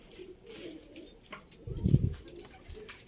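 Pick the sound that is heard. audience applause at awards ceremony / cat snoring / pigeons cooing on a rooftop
pigeons cooing on a rooftop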